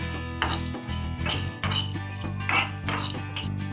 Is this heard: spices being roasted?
yes